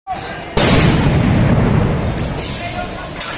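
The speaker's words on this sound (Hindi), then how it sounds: "They are firing into the campus." A sudden loud blast, consistent with gunfire or a tear gas shell fired into a university campus during a police crackdown, bursts out close and sharp, then washes into a long noisy roar with shouting crowd voices beneath.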